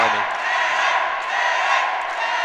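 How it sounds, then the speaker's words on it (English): A crowd at a fight roars and cheers wildly, a continuous loud wall of voices with whoops rising over it. "As the crowd starts going wild."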